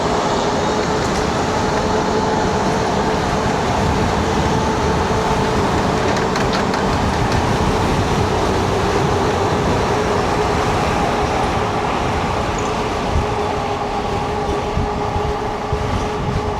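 A DYU M20 Lite electric bike rides at about 33 mph on its twist throttle, with a loud, steady roar of wind and road rumble throughout and no talking.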